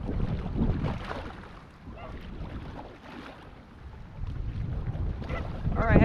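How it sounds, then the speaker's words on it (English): Strong wind buffets the microphone while a raft is paddled across a lake, rumbling in uneven gusts with faint water movement beneath, no voices present. "We got a lot of wind."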